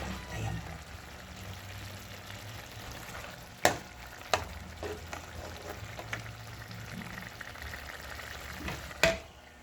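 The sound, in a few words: coconut milk boiling in a pan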